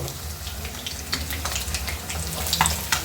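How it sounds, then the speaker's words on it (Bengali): Sliced fish frying in a pan on a home stove gives a continuous close crackling sizzle with scattered spits and pops, and no voices. "ভাজা হয়ে গেছে, এখন আমি চুলা থেকে মাছগুলো নামিয়ে নেব"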